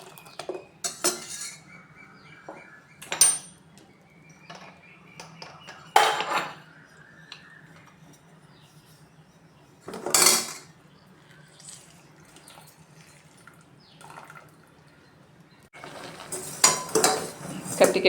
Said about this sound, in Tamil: ஒரு லெமன் நல்லா கலந்து விட்டுக்கணும்.